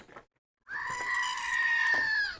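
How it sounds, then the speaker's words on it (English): A goat lets out one long, loud, wavering bleat up close after a short bit of noise and a brief silence. "Hang on, where's the goats?"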